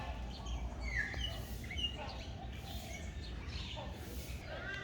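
Scattered bird chirps and calls in a bird garden at Taman Mini park, Jakarta, sound at a moderate distance over a low background hum, faint and intermittent.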